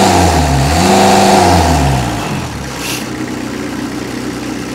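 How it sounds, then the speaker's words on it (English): A Kubota diesel-driven Finn B70 skid-mounted straw blower winds down after the clutch is cut, the engine's steady drone and falling tones easing into a lower, quieter fan whir that keeps spinning on its own. "You can hear right there, the fan is still spooling down."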